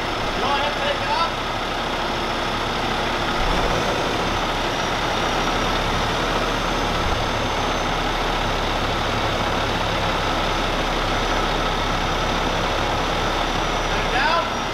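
A Cummins ISX truck engine runs with its PTO engaged, a loud steady idle with a deep low rumble that continues unchanged throughout, with brief faint voices along the way.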